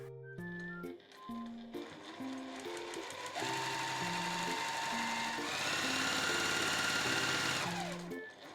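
Sewing machine stitching fabric for a gathered dress, running in steady motorized bursts that start and stop several times, the whirring close and clear with no one talking.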